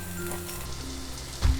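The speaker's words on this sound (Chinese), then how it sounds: "热锅以后，炒香红葱头和大蒜粒" Shallots and garlic fry in a hot wok, giving a soft, steady sizzle with a brief clink near the end.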